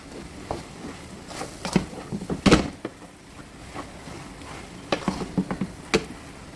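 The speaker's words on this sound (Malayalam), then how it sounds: "നമുക്കിത് ഇളക്കി കൊടുക്കാം നല്ലപോലെ." Samosa masala filling with onion is stirred in a pan, giving quiet scraping and soft patter with a few sharper clinks of the spoon against the pan, faint and close, with no talking.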